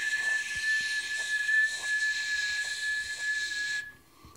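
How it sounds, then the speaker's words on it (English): An open-mouth palate whistle, made with the roof of the mouth, holds one steady, airy high tone for nearly four seconds with breathy hiss around it, then cuts off abruptly. "whistle only using the upper part of the mouth"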